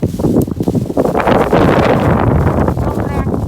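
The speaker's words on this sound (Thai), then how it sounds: "ลมแรงมาก" Strong wind gusts roar and buffet loudly across the microphone, a continuous rushing blast with occasional faint voices underneath.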